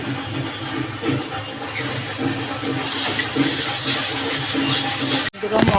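Kidney beans poured into a nearly cooked masala in a pan, a steady rushing, hissing pour lasting several seconds, loud and close, ending with a short clatter.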